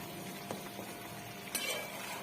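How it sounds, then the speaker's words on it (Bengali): Fried onion and tomato paste being stirred into a curry in a pan, giving a soft low simmering sizzle with a few quiet scraping stirs. "এবার একটু নাড়িয়ে দেবো"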